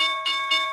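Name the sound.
bell ringing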